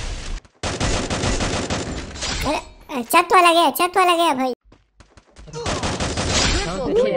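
Rapid gunfire from a mobile shooter game comes in dense, loud bursts at the start and again near the end. Someone talks excitedly in the quieter middle stretch.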